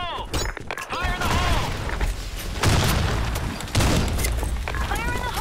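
Grenades explode in the shooter game Blackshot as heavy booms over continuous gunfire, while shouted voice callouts from game characters overlap the blasts.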